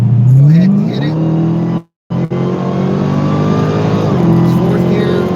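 Dodge Hellcat with an aftermarket airbox in cold weather, engine loud and close as it pulls hard through the gears, pitch climbing and dropping at each shift with a brief cut near two seconds, and someone talking over it.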